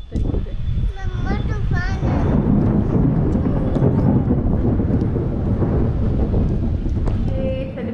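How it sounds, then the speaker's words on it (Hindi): Heavy thunder during a rainstorm, a loud, continuous deep rumble rolling over the hiss of rain and wind, with a voice heard briefly near the start. "ये बिजली कड़क रही है"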